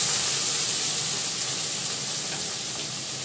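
Potatoes frying in oil in a pan with mustard seeds and curry leaves, a loud continuous sizzle that stays even and fades slightly toward the end, no voices.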